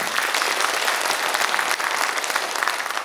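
Audience at a meeting giving a round of applause, a steady dense patter of many hands clapping for about three seconds without pause.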